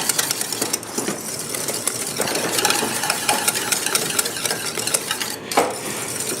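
A utensil stirs cheese sauce in a pan over a medium-low flame, giving a steady scraping, sizzling texture with soft clinks, loud and continuous without pause.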